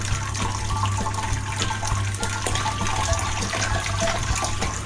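Homebrewed raspberry sour beer wort recirculating through the grain bed during the mash, a steady, continuous trickle and splash of liquid close by with no talking over it.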